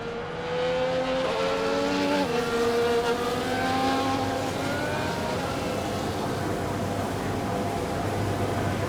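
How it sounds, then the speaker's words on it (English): Formula 1 cars in the F1 24 racing game roll toward the starting grid in Baku, a steady blended engine drone with rising and falling revving tones that holds throughout at a fairly loud level, with no talking. "As the cars make their way back to the starting grid to form up and get ready for lights out"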